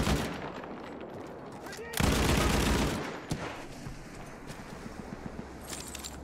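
Enemy gunfire rattles through a war video game battle, dense bursts of automatic shots and rapid reports with a loud heavy blast near the middle, continuing over distant background noise.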